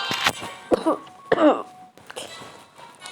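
Several short dry coughs and throat clearing from a person sitting close, in irregular bursts with some faint background noise between.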